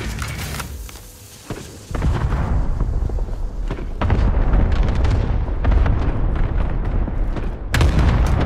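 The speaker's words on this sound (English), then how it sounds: "Allied cluster strike inbound." A cluster strike in Call of Duty Modern Warfare multiplayer hits with a rapid string of heavy, rumbling explosions, loud and close, rolling one after another for several seconds after a quieter opening.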